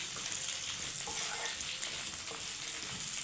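Bitter gourd with onion, amla-sized tamarind and onion sizzling in a pan, giving a steady dense crackling hiss throughout with no pauses.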